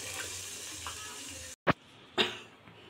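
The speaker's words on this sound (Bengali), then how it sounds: "এই যে বেগুনগুলো আমার ভাজা হয়ে গেছে" Brinjal frying in hot oil in a covered pan, a steady close sizzle running throughout, broken by a brief silence and then two louder bursts of spitting hiss.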